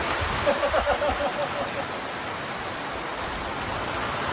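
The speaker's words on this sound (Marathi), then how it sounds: "एवढा मोठा पाऊस आलाय" Heavy rain pours down in a steady, dense hiss that fills the whole stretch, with a brief voice faintly audible early on beneath the downpour.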